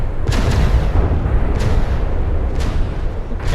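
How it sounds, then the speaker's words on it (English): Artillery shells landing in a naval warship video game, with three or four muffled booms rising out of a dense, continuous roar of battle noise at close, loud level. "Another shell is landing."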